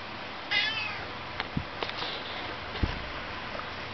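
A single faint meow from a cat, followed by a few soft taps and small rustling sounds in a quiet room.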